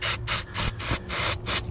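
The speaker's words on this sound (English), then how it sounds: "I'm using a little bottle of compressed air" A small can of compressed air sprays into a diesel injector hole on a 2000 Ford F-250 in six short, close hissing bursts separated by brief pauses.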